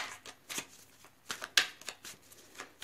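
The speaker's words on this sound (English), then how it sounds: "Let's keep shuffling." Tarot cards shuffled by hand at close range, a run of quick soft riffling bursts and papery slaps with brief pauses between them.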